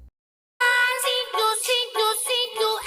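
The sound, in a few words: Audio after music rebalance effect in FL Studio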